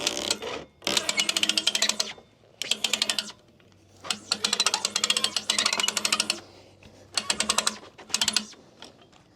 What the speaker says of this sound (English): So now I can just crank it on up.